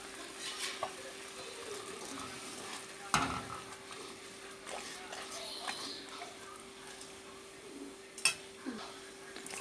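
A pot of murungai keerai (drumstick leaf) soup thickened with cornflour bubbles steadily while a spoon scrapes and stirs, with occasional sharp clinks against the pot and a person talking nearby.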